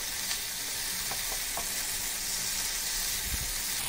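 Egg 65 sizzles loudly and evenly in a pan, with a dense, steady frying hiss and a few light scrapes and knocks as it is stirred.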